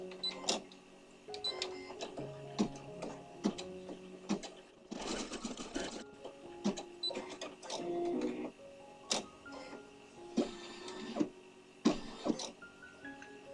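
An embroidery machine sews a placement stitch for ribbon, a quiet mechanical whir broken by rapid ticking stitches and occasional louder clunks and short motor bursts as the hoop moves.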